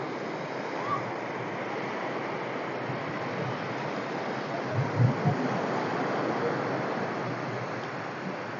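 Soft, continuous wash of ocean surf on a beach in Palauig, Zambales, fairly distant and even, with a brief low thump midway.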